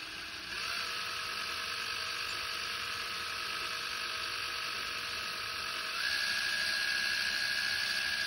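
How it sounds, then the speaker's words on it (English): A power drill boring holes for a rear license plate on a Toyota GR86, a steady high whine held for several seconds that steps up in pitch and loudness partway through, close and with no speech. "That is the first holes drilled."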